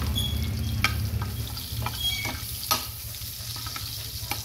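Onion and garlic hit a hot pan while cooking Filipino Bicol express, giving a steady, close sizzle with a few stirring scrapes and taps on top and no one speaking.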